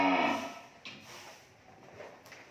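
A single deep moo opens the scene at Tư Chiến cattle farm in Mỏ Cày Bắc district, fairly close and loud, then fades into quiet barn ambience with faint scattered knocks.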